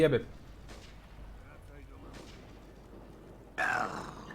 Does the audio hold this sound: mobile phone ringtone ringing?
no